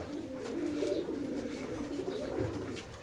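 Several large pigeons in cages at a pigeon market give low, soft, rolling coos. The cooing is steady and fairly close, with faint market background noise and no talk.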